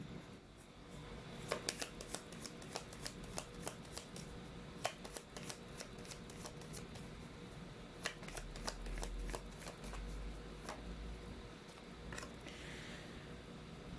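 Tarot cards are shuffled repeatedly, a quiet, close run of crisp riffling snaps and papery flutters in irregular bursts.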